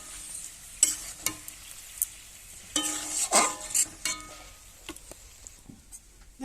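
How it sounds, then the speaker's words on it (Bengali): Elephant apple pickle being stirred with ground spices in a pan: scattered scraping and spoon-clatter strokes over a faint, soft sizzle, close and fairly quiet, with no talking. "এরপরে গুঁড়ো মশলা দিয়ে আমি সব একসঙ্গে মিশিয়ে নেব।"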